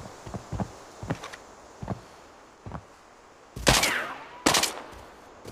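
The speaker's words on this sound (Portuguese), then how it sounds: "é bot atirando em você?" Gunfire in the mobile shooter game Arena Breakout, several sharp distant shots spaced through the clip, then two louder, closer bursts near the end.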